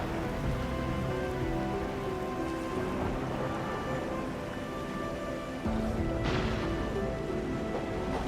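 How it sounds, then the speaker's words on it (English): Heavy rain pours steadily in the video game Arknights Endfield, a dense, constant hiss of drops on surfaces that swells slightly louder near the end, with no voices over it. "It's raining harder. I can't hear anything except for the rain."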